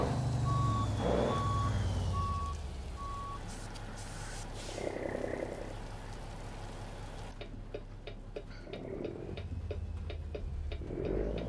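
In American Truck Simulator, a truck backing a trailer onto a scale sounds a steady series of reversing beeps over a low engine rumble, followed by a quicker ticking pulse and soft background noise.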